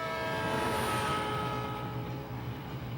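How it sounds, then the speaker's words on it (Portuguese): A moving train's horn sounds steadily and fairly loud with layered harmonic tones, the pitch sliding slightly as it passes and fading a little toward the end over rumbling rail noise. "Percebemos o efeito Doppler quando ouvimos o apito de um trem em movimento"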